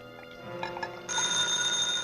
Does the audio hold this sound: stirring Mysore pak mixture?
no